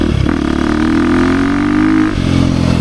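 A 2023 KTM 350 XC-F Factory Edition dirt bike pulls hard through the gears, its engine note climbing steadily, dipping at a shift, then rising again, loud and close.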